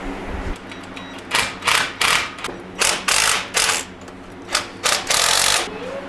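Ratchet tightening plugs into a Squarebody engine during a tune-up: bursts of quick ratcheting clicks in short strokes, repeated about eight times with brief pauses, close and fairly loud, no voices over them.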